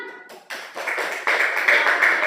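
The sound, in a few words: clapping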